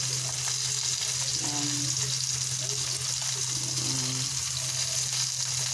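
Dried milkfish (daing na bangus) frying in a pan gives a steady, close sizzle with light crackle that holds evenly throughout, with a low constant hum underneath and no talking.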